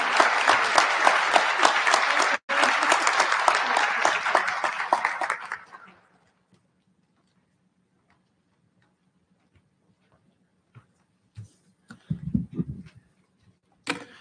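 Applause for elementary school award recipients at an awards ceremony, steady clapping for about six seconds before fading out, then near silence with a few faint knocks and rustles.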